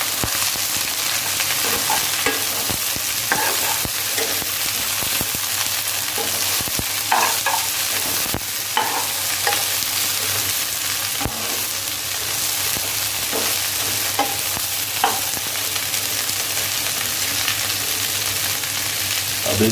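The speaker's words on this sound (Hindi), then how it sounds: "अब हम इसमें 500 ग्राम एक कटी हुई भिंडी डाल देंगे। इसको अच्छे से फ्राई करेंगे।" Chopped okra, 500 grams, fries and gets stirred in a pan, with steady broadband sizzling and scattered scraping stirs throughout, loud and close, with no talking.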